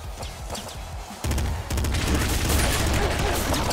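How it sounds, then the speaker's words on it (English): Rapid gunfire from the video game Nuclear Throne crackles in dense bursts that grow louder and fuller partway through, continuous and close with no talk over it. "Shooting at me."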